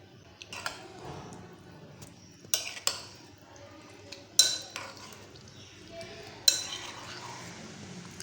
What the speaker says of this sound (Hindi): अच्छे से मिक्स अप करेंगे।